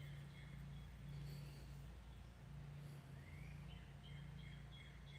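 Faint birds chirp in short, repeated high calls over a low steady hum, distant and soft.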